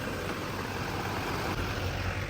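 An old ranch truck engine running just after a jump start, a steady low rumble with a broadband idle roar, close and constant with no voices.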